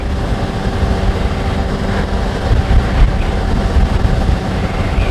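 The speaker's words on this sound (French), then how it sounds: "c'est très bizarre d'avoir la moto qui accélère pour toi" A Kawasaki Z H2 motorcycle picks up speed on its own under cruise control, making a steady loud low rumble with heavy wind noise throughout and no distinct voice.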